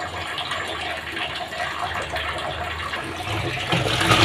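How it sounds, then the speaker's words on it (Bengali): Chopped vegetables being scrubbed and washed by hand in water, with continuous close splashing and sloshing that swells toward the end, no voices. "এখন ভালো করে হাত দিয়ে কষিয়ে ধুয়ে নিচ্ছি"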